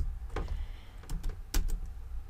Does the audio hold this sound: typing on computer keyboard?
yes